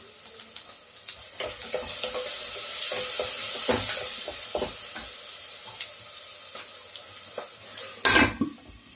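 Fennel seeds and a cinnamon stick sizzling in about two ladles of hot oil for a chicken dish, a steady bright hiss with spoon clinks and stirs and a louder clatter near the end.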